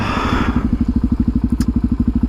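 Motorcycle engine idling close by with a steady, rapid low thumping pulse and a brief higher clatter partway through, no talk.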